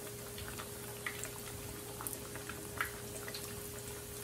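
Breaded sole fillets cook in a generous amount of hot oil, giving a soft, steady sizzle with scattered small pops and crackles, fairly quiet and close.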